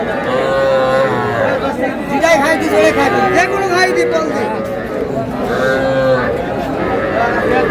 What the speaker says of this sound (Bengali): এটা কি ষাঁড় বাচ্চা?